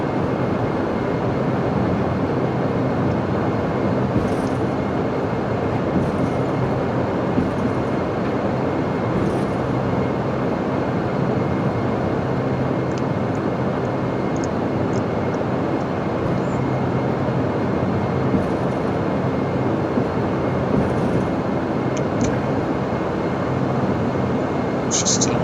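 A Bombardier aircraft engine drones steadily through a flight from Sudbury to Ottawa in Microsoft Flight Simulator X, a loud, unbroken broadband roar throughout.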